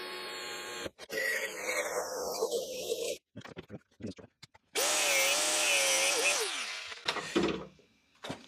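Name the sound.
power drill drilling holes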